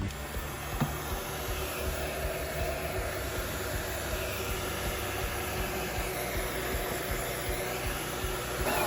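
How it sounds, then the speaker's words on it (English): A heat gun blows hot air onto heat shrink tubing over a wire connector while wiring an F150 light bar, a continuous loud airy whir and hiss with no talking. "now we'll heat up the heat shrink that's on this connector first"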